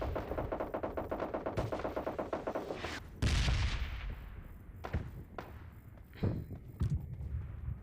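Rapid automatic gunfire in a battle-royale style video game, a fast rhythmic burst of shots followed by a heavy blast and scattered single shots and thuds, loud and close.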